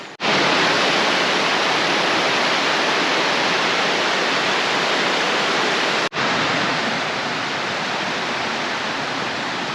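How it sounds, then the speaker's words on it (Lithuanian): Stream of water rushing through a forest, a steady broadband wash of flowing water, loud and continuous, with a brief break partway through. "Čiurleno upelis, miškelis."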